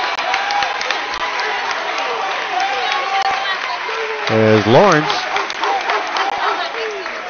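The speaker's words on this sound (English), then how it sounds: "gets a big applause from his coach and his entire bench for diving on the floor" Applause and cheering rise from the coach and the entire bench at a Panola College basketball game after a player dives on the floor. A commentator talks over a steady crowd murmur, and the clapping swells briefly midway.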